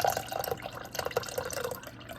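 Del Monte fruit cocktail syrup poured from the can into a container, a steady close trickling and splashing with small drips, alone without talk.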